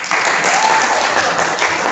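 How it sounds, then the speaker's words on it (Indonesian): Dense, steady applause from an audience at an Indonesian NasDem party discussion forum on the health law, a continuous loud wash of clapping that fills the whole moment with no talk over it. "Tepuk tangan dong."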